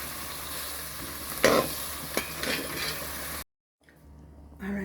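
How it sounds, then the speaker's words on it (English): Fish stewing in a pot with browning being mixed through, a steady wet sizzle with a few spoon scrapes and stirring knocks, cutting to brief near-silence before the bubbling sizzle returns. "We're going to give that a good mix."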